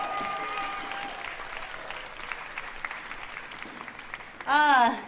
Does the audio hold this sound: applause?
yes